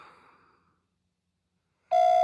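After a short fading sound and a stretch of near silence, a loud steady electronic tone starts abruptly at the end, like a telephone call ringing out unanswered.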